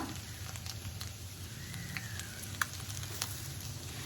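Curry leaves dropped into egg masala frying in a pan give a steady low sizzle throughout, with a few small crackles and pops near and moderately quiet.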